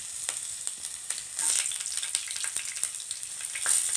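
Green chilies with crushed ginger and garlic fry in hot oil, giving a continuous bright sizzle with soft crackles and occasional stirring scrapes, close and steady.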